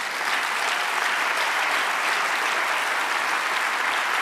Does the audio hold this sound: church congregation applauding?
yes